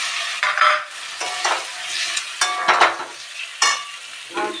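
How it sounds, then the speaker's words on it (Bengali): Spices sizzling in hot oil in a pan as potato pieces are added and stirred for a drumstick-flower curry, with repeated scraping stirs over a steady close fry. "মশলা ভাজা হয়ে গেছে, তেল ছেড়ে দিচ্ছে মশলা থেকে।"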